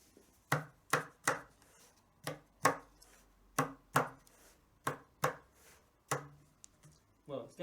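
A tabla being struck to test its head tension after its straps are tightened during repair; a series of sharp, dry, close taps comes in uneven pairs and clusters, each fading quickly, with faint voice traces between the hits.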